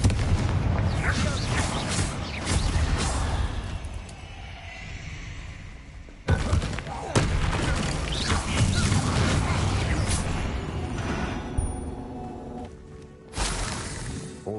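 Confringo spell blasts in a Hogwarts video game, heard as loud, dense booming bursts with crackling impacts, several sharp hits around the middle and a final blast near the end, with brief talk in between.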